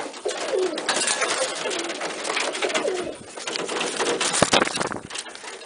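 A pigeon coos close by in repeated soft, throaty rolling calls, loud and clear over a light rustle of background noise, with no one speaking.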